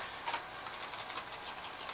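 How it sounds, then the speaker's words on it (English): A topwater walking bait is shaken by hand, its internal rattles giving a fast, dry clicking chatter that stays steady and close for about two seconds. "Sound like it's got some good rattles in it."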